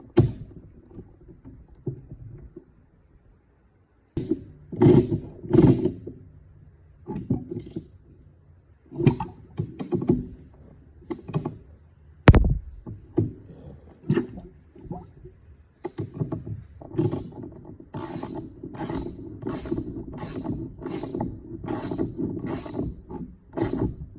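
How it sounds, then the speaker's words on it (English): Close metallic clinks, ratchet clicks and tapping come in irregular bursts as a sprocket is reinstalled on a Honda CRF450X dirt bike, with short pauses between the handling noises. "So I got to get this sprocket back on."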